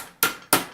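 Two crisp, close hammer taps seat a part into a Savage 24S-E combination firearm held in a vise, evenly spaced sharp metallic strikes with short ringing decay in a quiet workshop.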